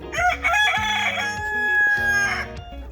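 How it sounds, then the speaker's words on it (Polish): Young, partly grown chickens cluck and call close by indoors in a boiler room, several overlapping squawky, crowing-like cries in quick succession without any talking. "dzisiaj Wam pokażę kurczaki. Już takie trochę wyrośnięte kurczaki."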